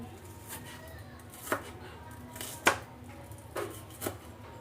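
A knife slices onions thinly on a board for dinakdakan, giving about five sharp, separate cuts at an uneven pace. The cuts are close and crisp over a quiet background with no talking.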